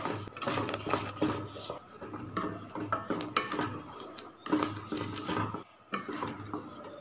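A spoon scrapes and stirs a thick mango burfi mixture in a pan, making continuous rubbing and clinking sounds in uneven bursts with short pauses between them. The stirring is close by and fairly quiet.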